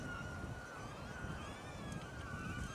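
Strong outdoor wind buffets the microphone as a steady low roar, with the high whine of a DJI Neo drone's small propellers running faintly and continuously through it, no voices heard.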